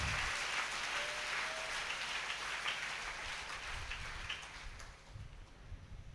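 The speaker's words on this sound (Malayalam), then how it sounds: "ഇപ്പോൾ നമ്മൾ കേട്ട സാക്ഷ്യത്തിന് ദൈവത്തിന് നല്ലൊരു കൈയടി കൊടുത്ത്" A church congregation applauds together, a dense, steady wash of clapping that holds loud and then fades slightly toward the end, with no voices over it.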